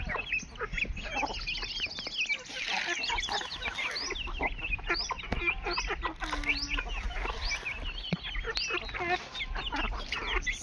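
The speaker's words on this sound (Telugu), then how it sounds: "ఇప్పుడు పుంజు ఇటు వెళ్ళినట్టుంది." Chickens and a rooster cluck and squawk busily at close range while being fed rice, a dense continuous chorus of overlapping calls with no clear speech.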